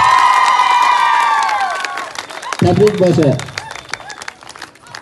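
Fourth-grade girls at an exam results announcement clap and cheer in a lively burst under a voice, with shouted voices rising and then fading.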